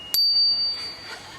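A bicycle bell dings once, sharp and close, its bright metallic ring lingering and fading over about a second with no talk.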